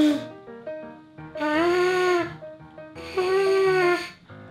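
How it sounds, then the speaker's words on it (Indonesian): Lips buzz into a trumpet mouthpiece in two sustained, loud, pitched tones that waver slightly, with shorter, quieter buzzy attempts and breathy gaps around them. "Bibirnya di dalam mouthpiece itu getar karena anginnya itu bikin bibirnya kebuka dan tutup, buka, tutup."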